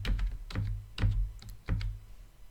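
Keys clacking on a computer keyboard in short uneven bursts, close and fairly loud, with no talking over it.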